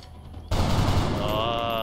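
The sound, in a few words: gunshots in XCOM Long War video game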